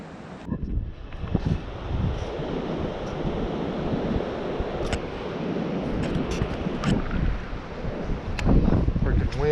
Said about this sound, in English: Freaking windy as all get out here.